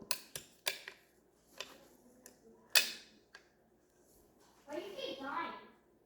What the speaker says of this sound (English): So I'm going to cycle the bolt.